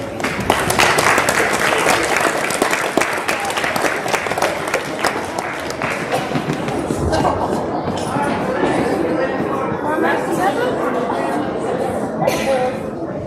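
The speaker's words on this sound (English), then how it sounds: "All right, round of applause." Audience at a school strings winter concert applauding, dense clapping from a crowd that starts strong, with a few voices and chuckles mixed in before it thins out near the end.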